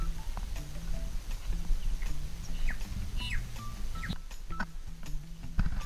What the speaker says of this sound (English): Two birds are talking together.